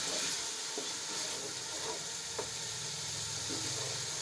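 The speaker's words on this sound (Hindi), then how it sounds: "अब हम इसमें थोड़ा सा पानी डालते हैं" A steady hiss and sizzle as water is poured into a hot frying pan of cooked tomatoes, continuous and fairly close, with a few faint clinks of utensils.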